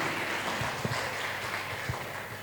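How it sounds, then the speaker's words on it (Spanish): Church congregation applauding the Lord in a Spanish-language service, a soft steady wash of clapping with a few louder low thumps, fairly distant and with no clear talk. "Dele un aplauso al Señor."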